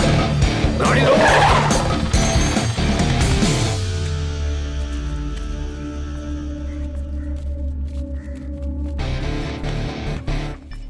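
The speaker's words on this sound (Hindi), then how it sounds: "गाड़ी रोको।" A car brakes hard and its tires skid loudly to a stop in a Hindi-dubbed South Indian action thriller, with a long screech fading into engine hum and music.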